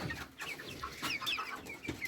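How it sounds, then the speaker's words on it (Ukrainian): Several chickens cluck softly close by, with short, squeaky, rising calls like a young rooster attempting an unfinished crow. "І хтось із них уже півник, який питається співати."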